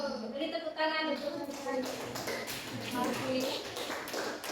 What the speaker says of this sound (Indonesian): Beri tepuk tangan itu